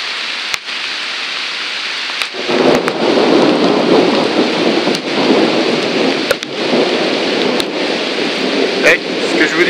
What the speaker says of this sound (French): Il continue toujours de pleuvoir.